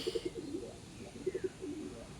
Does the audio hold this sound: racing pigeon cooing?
yes